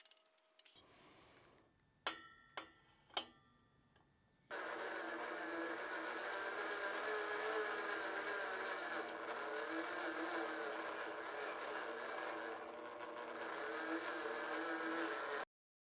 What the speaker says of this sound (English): So I'm going to move the pilot over to the exhaust now and try to cut that thing.